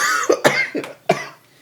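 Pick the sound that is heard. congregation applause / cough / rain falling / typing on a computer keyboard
cough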